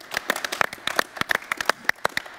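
A burst of scattered hand claps from a small group, sharp irregular claps close by, with no talking.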